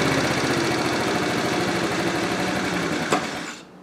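A 2013 TaoTao scooter engine idles with a rapid, buzzing mechanical chug that slowly loses strength, gives a brief sputter, then cuts out into silence near the end.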